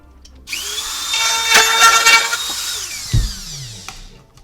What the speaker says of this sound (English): Take the base of the hatchery and drill a hole into the side here.